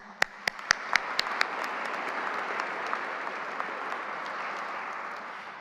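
Sustained audience applause fills an investiture ceremony hall, a dense steady wash of many clapping hands with a few sharp louder claps near the start, continuing evenly throughout without talk.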